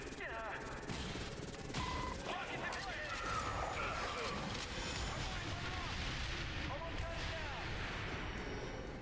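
Heavy airstrike explosions blast and crash repeatedly in The Bureau: XCOM Declassified, a dense loud barrage of impacts and debris layered with battle noise and voices talking throughout.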